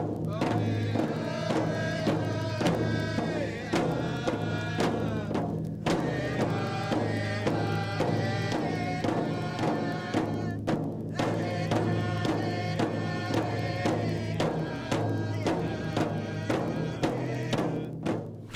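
A Spokane Tribe honor song for the river is sung by voices carried over a steady pulsing beat, continuous and fairly close, with brief pauses between phrases.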